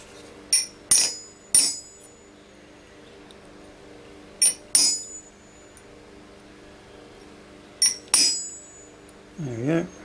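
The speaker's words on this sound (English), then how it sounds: "And chisel in your lines." Hammer blows on a chisel cutting lines into metal sheet for homemade washers in a medieval armour workshop, heard as a few sharp metallic clinks in small clusters with pauses between, fairly close and alone.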